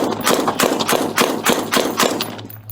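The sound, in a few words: gunfire exchanged during police shootout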